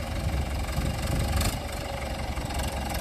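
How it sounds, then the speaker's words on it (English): A backhoe engine idles steadily at close range, a continuous low rumble with mechanical knock and vibration, no voices over it. "That's our 12-year-old son running the backhoe."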